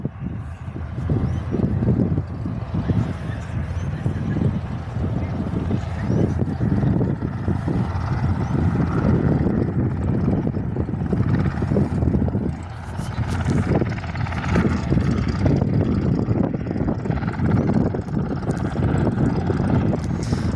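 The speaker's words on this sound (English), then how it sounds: "Another Singapore Cessna C-172 taxiing out for takeoff." A Singapore Cessna C-172 taxis out for takeoff on a windy day, its steady propeller drone rumbling continuously with heavy wind buffeting the microphone throughout.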